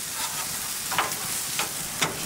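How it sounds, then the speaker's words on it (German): Meatloaf sizzling on a hot oiled plancha grill outdoors, a steady bright frying hiss with a few brief louder crackles, close and continuous. "Und dann lassen wir unseren Braten jetzt hier einfach mal anbraten, dass der schön Farbe bekommt."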